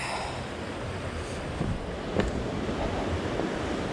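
River rapids rush steadily at the base of a rocky stretch of river near Seattle, a continuous broad roar with light wind buffeting the microphone.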